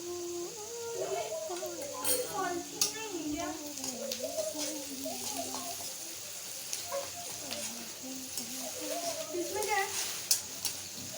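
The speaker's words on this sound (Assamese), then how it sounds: "প্ৰথমতে আলুখিনি ভাজি ল'ব লাগিব।" Potatoes and onions frying in a pan for a brinjal and peanut dish, a faint sizzle with occasional stirring scrapes running under steady talk throughout.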